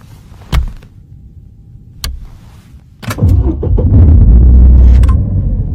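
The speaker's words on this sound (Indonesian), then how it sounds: "Ciro iseng-iseng mencet-mencet tombol starter" A car's starter button is pressed: a few sharp clunks and clicks, then the engine catches and settles into a loud, steady, low rumble that carries on to the end.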